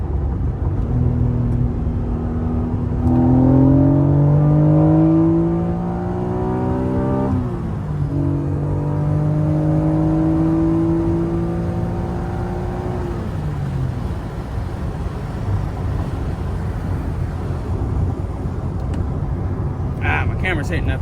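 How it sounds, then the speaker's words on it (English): An Acura NSX engine close by, revving up through the gears in two long rising pulls with a sharp climb in pitch as VTEC engages, separated by a brief shift, then settling into a steady cruising drone. "when you reach that RPM where the VTEC kicks in, this car right here, it actually does"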